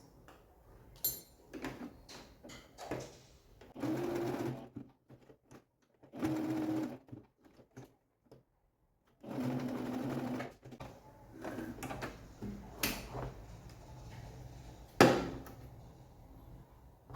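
A sewing machine stitches a fabric Easter bunny bag in several separate runs of fast, buzzing whir, each a few seconds long. Quiet pauses and small clicks from handling the cloth fall between the bursts.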